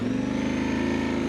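A 2026 Yamaha Tenere World Raid adventure motorcycle pulls away off-road, its engine giving a steady, moderately loud droning hum throughout, with no voices.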